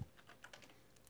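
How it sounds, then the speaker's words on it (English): Quick, light keystrokes on a computer keyboard in a Windows 10 administrator command window, an irregular patter of close, faint clicks for about a second with no voices. "And now you start typing."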